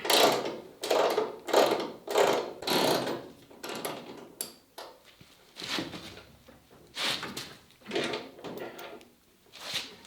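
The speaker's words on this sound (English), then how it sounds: "the first thing I'm going to do is remove this hex bolt" A ratchet working a hex bolt loose on a Willys Jeep, sounding as a steady series of rhythmic clicking strokes, fairly close and strongest early on.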